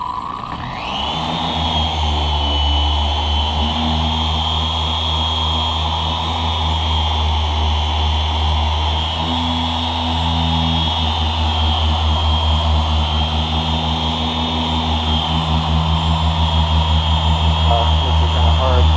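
Car polisher spinning at a high speed setting on a windshield, a loud, steady motor whine with a humming drone that runs continuously and close throughout.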